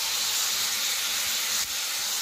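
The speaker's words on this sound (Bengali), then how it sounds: "লেবু দিয়ে ম্যারিনেট করা চিকেনটা দিয়ে আমি খুব ভালোভাবে কষাতে থাকবো।" Lemon-marinated chicken sautéing in a pan, with a steady hissing sizzle and faint scrapes, close and constant for a couple of seconds.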